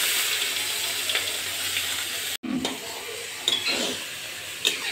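Onions being stirred in a frying pan, with a steady sizzle and light scraping throughout, close up and moderately loud, broken by a brief cut near the middle.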